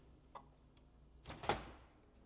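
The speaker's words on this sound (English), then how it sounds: "And then let's open up this refrigerator for you." A French door refrigerator with the freezer on the bottom, in a luxury home, gives a faint click and then a soft thud and rustle as a door swings open in a quiet room.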